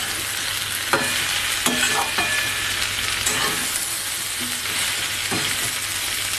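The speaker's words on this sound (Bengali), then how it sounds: "কাটাগুলো দিয়ে দিচ্ছি। একটু হালকা হাতেই নাড়তে হবে।" Chital fish bones frying in a pan for a bony fish charchori, stirred gently: continuous bright sizzle with several clinking scrapes of the spatula, close and fairly loud, no voices.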